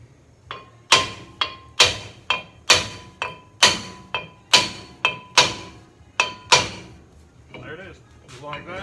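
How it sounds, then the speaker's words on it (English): Hammer taps knock a brake rotor loose on a 2006 Nissan Xterra: about fifteen sharp metallic strikes in an irregular steady rhythm, close and loud, with a voice speaking briefly near the end. "So just give it light little taps right here in the center."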